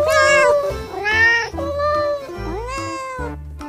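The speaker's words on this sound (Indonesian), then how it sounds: "Ini ada induk kucing." An orange mother cat meows loudly and close by, giving several drawn-out, wavering calls in quick succession.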